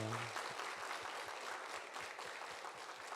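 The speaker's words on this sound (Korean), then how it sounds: "우리 다시 한번 큰 박수로 격려합시다" A church congregation applauds in encouragement during an anniversary revival service, a faint, even spatter of many hands clapping at a distance, alone without speech.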